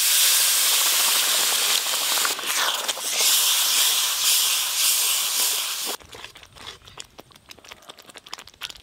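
Egg curry gravy loudly bubbling and hissing in a pan just after water is added, a steady steamy roar that drops abruptly to a softer crackling simmer.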